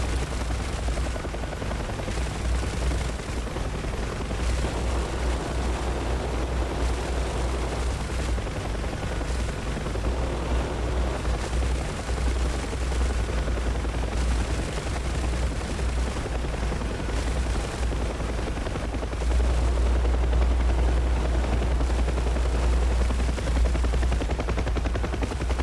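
A UH-1H Huey helicopter's rotor thump and turbine drone run continuously in a DCS World combat flight sim, with bursts of distant gunfire scattered through and the rotor growing heavier toward the end.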